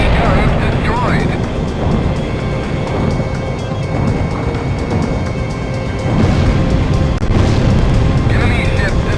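An enemy warship explodes in the Ace Combat X flight game, a heavy booming blast rolling over a continuous jet and battle roar, with game radio voices speaking over it.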